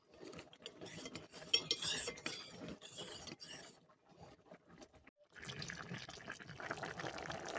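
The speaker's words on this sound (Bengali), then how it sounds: "জলটা দিয়ে ভালো করে নেড়ে নেব আমি।" Jackfruit curry with arrowroot being stirred after water is added: wet spoon scraping and clinking against the pot, loud and busy, then a short pause before a denser stretch of sloshing and stirring, no talk.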